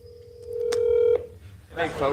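A phone call being placed: a steady ringback-style tone with a brief beep holds for about a second, cuts off, and then people start talking over faint background noise.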